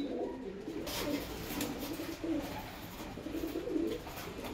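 Pigeons coo softly and repeatedly while bathing in a water tray, low rolling calls close by over faint background noise.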